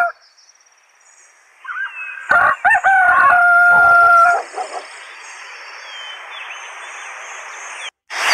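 A loud rooster crow rings out once in a Babybus Baby Panda children's video game, a drawn-out cock-a-doodle-doo close by, followed by a quiet hum and faint background noise.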